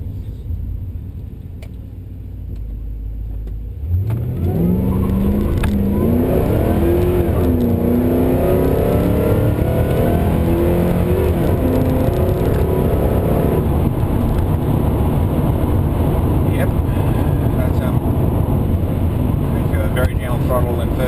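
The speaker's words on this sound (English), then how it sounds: "Turn around and do acceleration up this hill like normal" A supercharged LS1 VZ automatic ute on road tyres accelerates uphill in first gear, its low engine note jumping in loudness and then rising and holding as a loud, steady roar close to the microphone.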